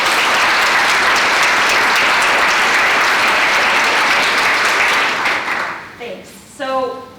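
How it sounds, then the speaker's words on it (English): A keynote audience at a Women Who Shape the State 2022 event applauds the organizers and mentors: dense, loud, sustained clapping that tapers off near the end as a voice begins speaking. "let's have a round of applause for our organizers and for all of you and all of the mentors"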